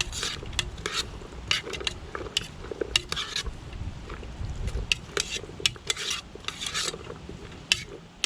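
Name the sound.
browning beef and onions in a Zebra billy can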